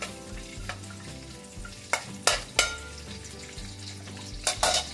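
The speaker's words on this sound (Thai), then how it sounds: "เราใส่น้ำมันไปหนึ่งช้อนโต๊ะนะคะ แล้วก็ใส่กระเทียมลงไปค่ะ" Garlic frying in a tablespoon of oil in a pan for Thai pork with ginger, a close crackling sizzle punctuated by several sharp spatula scrapes and clanks against the pan, over quiet background music.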